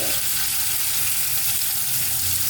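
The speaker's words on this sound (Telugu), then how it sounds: "కరివేపాకు, ఇది కొంచెం ఫ్రై అయితే చాలండి." Curry leaves, small shallots and a single chili fry in hot oil on a low flame for mutton chukka, giving a steady, close, even sizzle with no voices.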